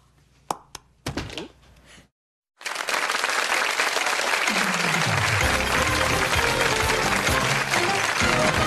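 Studio audience applause on a television quiz show, starting after a few short knocks and a brief silence, then loud, dense and sustained clapping through the rest.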